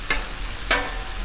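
Chicken and broccoli stir fry cooking on a Blackstone griddle, with a steady low sizzle and two short bright scraping or stirring strokes, close by and moderately loud, with no talking.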